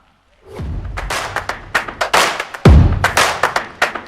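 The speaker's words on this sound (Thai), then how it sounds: "ผมขอเสียงปรบมือดังๆเพื่อต้อนรับนักกีฬายูซาน่าแอดลีของเราครับ" Applause and scattered thumps at a USANA event welcoming athletes, among them Thai national beach volleyball players, irregular bursts of clapping building and holding close by, with a heavy thud midway.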